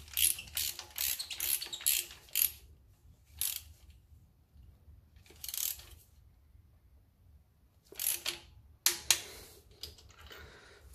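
Ratchet wrench clicking in short bursts while fitting spark plugs on a Dacia Duster engine, with quiet pauses between rapid close-up ratcheting runs.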